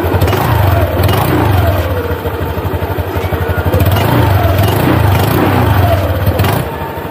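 A Honda Click scooter with a new rear disc brake pad and RCB S2 caliper sits running nearby. Its engine gives a loud, steady, throbbing idle that dips briefly and then holds even throughout.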